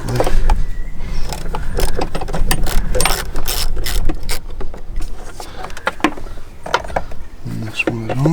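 A ratchet undoing 10 mm bolts to remove the airbox on a diesel Hyundai Santa Fe CRDI, giving steady, loud, close clicking and clattering metal over eight seconds, with no talk.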